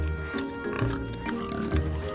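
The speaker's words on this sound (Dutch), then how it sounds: "Kijk, de varkens staan lekker te eten." Pigs feed at close range, grunting and snuffling in short irregular bursts with some chewing noise, in a Dutch-language children's cartoon.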